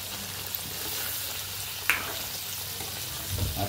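Chicken pickle sizzles and fries in a pan with salt and spices, a steady low crackle throughout with a brief stirring scrape near the middle, close and alone with no talk.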